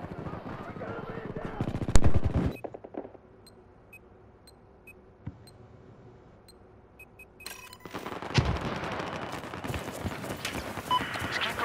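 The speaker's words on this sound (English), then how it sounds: "Shotgun again." Shotgun fire in Battlefield 4: a burst of loud, close blasts at the start, then a quiet stretch with a faint shot, before heavy rattling gunfire returns and continues to the end.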